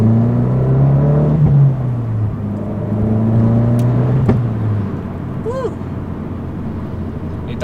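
An Abarth hatchback drives along twisty country roads at low speed, its engine droning steadily from inside the cabin, with the pitch rising and falling through gear changes.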